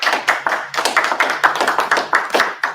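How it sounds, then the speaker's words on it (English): A small group claps in a quick, uneven rhythm of sharp hand claps, close by and fairly loud, with no voices over it. "Can we get a round of applause for this courage?"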